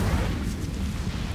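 An Incendio fire spell in Hogwarts Legacy goes off as a short, loud, rumbling blast with a dense crackling low roar that lasts just over a second.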